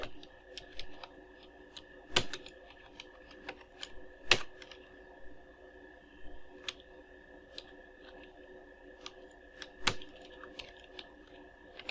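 A computer keyboard clicks away as text is typed into a form field, irregular close, soft keystrokes with a few sharper taps standing out over a quiet background.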